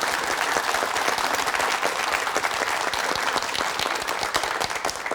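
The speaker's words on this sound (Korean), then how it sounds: "요럴 때는 예가 아니라 박수 쳐야 되는 거예요" Dense, sustained applause from a studio audience at a Korean morning talk show, many hands clapping steadily and loudly throughout with no voices over it.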